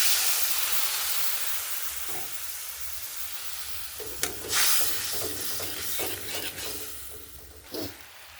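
Turmeric and chilli powder hit a hot pan with water, giving a strong hissing sizzle that slowly fades, followed by scattered stirring scrapes and small bursts of steam.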